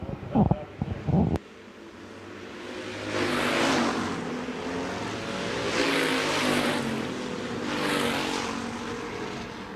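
Stock cars in a heat race at Shelby County Speedway roar past in repeated waves of engine noise, each swelling and fading as the pack goes by, following a brief burst of sound at the start.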